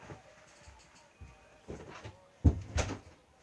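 A door being shut indoors: soft shuffling and handling noises, then a firm thump of the door closing with a second knock right after, close by and without talk.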